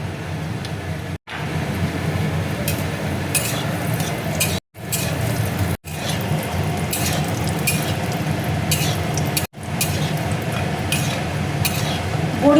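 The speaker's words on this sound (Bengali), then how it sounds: "কড়াইয়ে দেখো তেল দিয়েছি, তেল দেখো গরম হয়ে গেছে। এবার বড়িটা দিয়ে দিচ্ছি।" Bori (lentil dumplings) fry in hot oil in a kadai with a steady, fairly loud sizzle and occasional light clinks of a utensil stirring. The sound is cut by a few abrupt brief silences.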